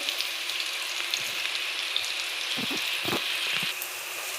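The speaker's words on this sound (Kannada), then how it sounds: "ಅರ್ಧದಷ್ಟು ನಾನು ಈರುಳ್ಳಿನ ಕಟ್ ಮಾಡಿ ಇಟ್ಕೊಂಡಿದ್ದೆ ಅದನ್ನು ಹಾಕ್ತಾಯಿದ್ದೀನಿ" Chopped onions fry in oil for a dry prawn chutney, producing a steady hissing sizzle with a few soft stirring knocks near the end.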